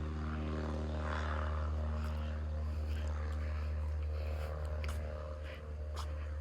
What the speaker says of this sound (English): Little private plane.